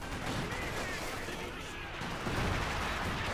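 Dense, continuous battle noise from the World War II strategy game Company of Heroes 2, with gunfire and explosions blending into a loud, rumbling wash. A grenade blast is likely among them.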